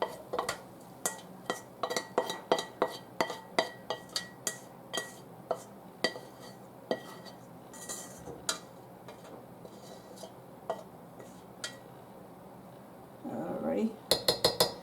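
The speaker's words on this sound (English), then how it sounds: "Scrape all those juices out of there." Metal spoon scraping sausage juices from a cooking pot, with a rapid run of clinks and scrapes that thins to sparse taps and then picks up again at the end; close and fairly quiet.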